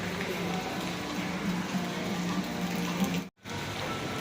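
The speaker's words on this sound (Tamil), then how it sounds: "மழை கொஞ்சம் விட்டுருக்கு" Light rain falling steadily at an outdoor shopping area in Johor, Malaysia, a soft continuous patter with a brief drop-out near the end, heard alone without talk.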